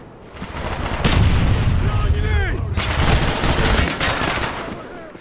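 In Black Ops multiplayer, a grenade blast and bursts of gunfire crackle loudly in quick succession, a heavy boom followed by rapid, overlapping shots that fade at the end.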